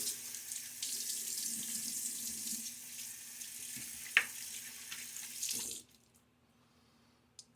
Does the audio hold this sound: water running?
yes